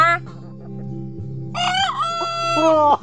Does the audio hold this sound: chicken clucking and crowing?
yes